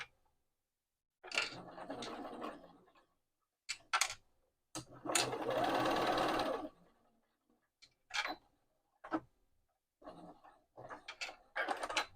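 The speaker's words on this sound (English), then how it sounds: "And I'm going to stitch down the other side." A sewing machine stitching down a fabric pocket piece, running in several short and longer bursts separated by silent pauses, close and fairly quiet.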